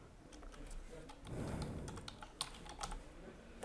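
Quiet, close keyboard typing as a new folder name is entered in a web hosting control panel, a steady patter of soft keystrokes with a few sharper clicks.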